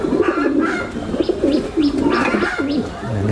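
Fancy pigeons at a large pigeon farm coo close and loud in repeated low, throaty rolling calls, several birds overlapping with some higher chirps.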